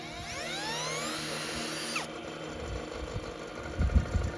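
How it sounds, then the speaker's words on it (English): A battery-powered drill spins up a homemade generator with a whining tone that rises in pitch for about two seconds and then cuts off, leaving faint mechanical hum and a few soft knocks. "using a battery-powered drill, we'll give the system an initial push"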